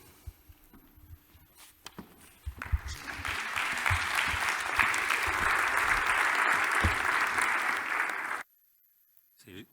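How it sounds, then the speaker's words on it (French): An audience applauds at the opening session of an event about recomposing with the living world. The clapping swells into a dense, steady ovation for about six seconds after some quieter stirring, then cuts off abruptly into near silence. "C'est très gentil de m'applaudir avant que j'ai pris la parole"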